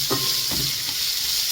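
Finely chopped ginger, green chillies and onions frying in a pan for oats upma, a loud close sizzle with brief scraping stirs near the start and no talking.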